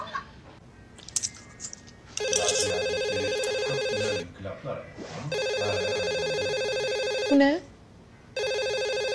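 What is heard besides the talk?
telephone ringing at home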